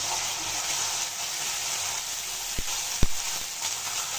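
Onions frying in a pan with ginger paste going in, a steady broadband sizzle running throughout with a couple of sharp clinks or splatters near the end, no talking.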